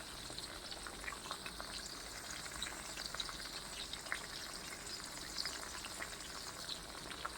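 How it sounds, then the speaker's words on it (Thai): Isan sausage frying in hot oil along with sun-dried kaffir lime leaves, a faint, steady crackling sizzle with tiny pops, close up and uninterrupted by voices. "นำมาทอดนะครับ"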